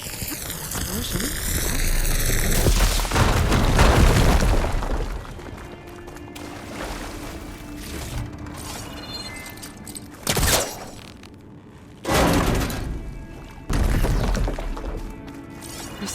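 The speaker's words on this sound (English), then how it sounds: "Explosion." In Horizon Forbidden West, a fire gleam deposit is blown up with a loud booming, shattering explosion. Debris rumble and several sharp crashing impacts follow, with talk in between.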